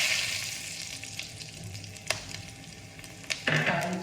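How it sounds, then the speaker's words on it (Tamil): Black pepper, cumin, curry leaves and asafoetida are tempered in hot oil for a varagu rice pongal. The oil sizzles and crackles steadily up close, with a sharper burst of spattering near the end. "இது தாளிக்கிறதுக்கு வந்து மிளகு, சீரகங்க, மிளகு, சீரகம், கருவேப்பிலை, பெருங்காயங்க."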